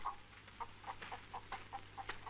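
A hen clucks in a series of short, soft, evenly spaced calls over a low steady hum, fairly faint and without any talk.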